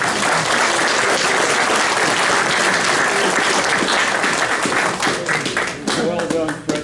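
Dense, loud applause from an audience at a 60th high school class reunion, a steady wash of many hands clapping throughout, tapering slightly near the end.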